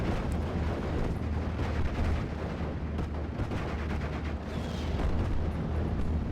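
Mortar fire in the WWII strategy game Steel Division: Normandy 44 at Pegasus Bridge, a dense rumble of repeated booming impacts and distant artillery blasts, loud and continuous with no talk.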